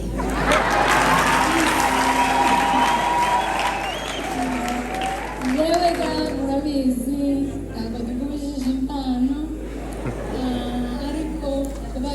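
A concert audience applauds in a loud, dense burst that fades after about five seconds, as a voice speaks over the thinning clapping.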